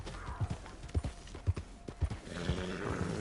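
Horse in the Red Dead Online video game, with clear, evenly spaced hoof clops up close, followed by a rising whinny at the end.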